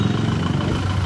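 A motorcycle engine idles steadily before a ride around Vrindavan, a loud, continuous low rumble close by with no talking over it.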